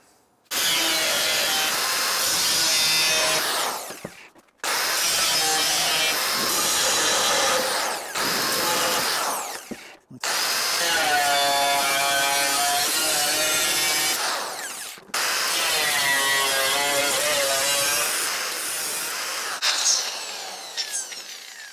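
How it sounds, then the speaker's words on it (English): A power tool with a cutting disc trimming out car body metal for a patch panel repair, loud and close, running in four long grinding passes separated by brief stops. "First job, cutting disc in here, just trim this out"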